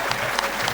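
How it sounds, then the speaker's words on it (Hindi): Dense, steady applause from a large audience at a Delhi mushaira poetry gathering, a brief loud burst of clapping with no pauses. "डरिएगा नहीं इन तालियों से जी।"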